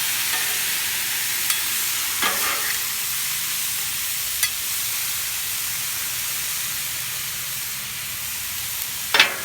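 Mushrooms frying on a Blackstone griddle give a steady, even broadband sizzle, with a few faint spatula scrapes and clicks over it.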